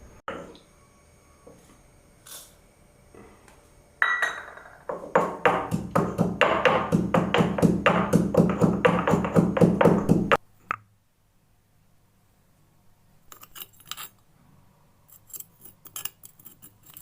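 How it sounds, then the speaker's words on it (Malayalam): Cumin and cardamom are crushed for a banana kozhukatta breakfast, giving a fast, close run of rhythmic knocks for about six seconds, framed by quieter clinks and taps. "ഇനിയിപ്പോൾ നമുക്ക് ജീരകവും ഏലക്കയും എടുത്തു വെച്ചിരിക്കുന്നത് ചതച്ച് ചേർക്കാനുണ്ട്. അപ്പോൾ അതൊന്ന് ചതച്ചെടുക്കാം."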